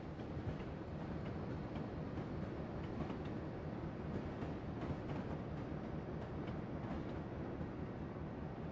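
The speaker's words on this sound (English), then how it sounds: "that train got on the move real quick" A freight train in Train Sim 2020 on Marias Pass rolls along in a steady, dense rumble with faint rhythmic clatter, loud and continuous without voices.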